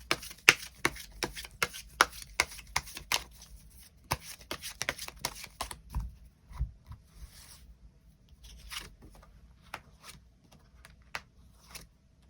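Tarot cards being shuffled and drawn at a table, a series of close crisp riffles, flicks and slides arriving in irregular bursts, fairly quiet, with no talking.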